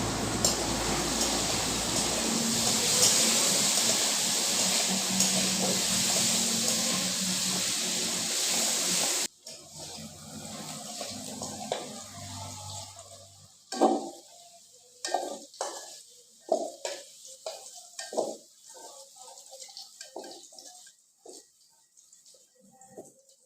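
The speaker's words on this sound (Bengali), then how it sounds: "ডিমের মতো আলুটাও লাল লাল করে ভেজে নেব" Potatoes frying in a pan sizzle loudly and steadily for about nine seconds, then the hiss drops away to quieter clinks, scrapes and stirring knocks of a utensil against the pan.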